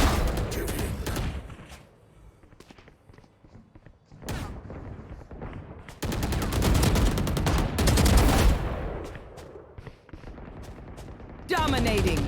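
Rapid bursts of gunfire in the tactical shooter Valorant, loud and close, coming in several clusters of repeated shots with brief gaps between them, and a voice speaks over part of it.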